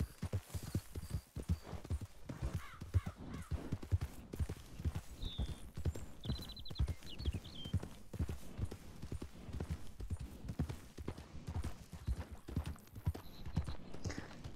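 Horse hooves clip-clop steadily in a video game, a dense stream of hoofbeats running through the whole stretch with a few brief chimes and faint talk above it.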